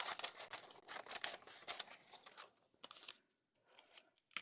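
Scissors snipping through fabric to cut out a shape for an antique quilt repair, a run of close, crisp cuts in quick rhythm that pause briefly and resume in shorter bursts.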